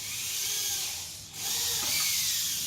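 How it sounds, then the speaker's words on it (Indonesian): Power drill driving screws into wood while fitting a curtain rail under a kitchen cabinet, a close, loud continuous whir that dips briefly in the middle then resumes. "Lagi kita bor lagi."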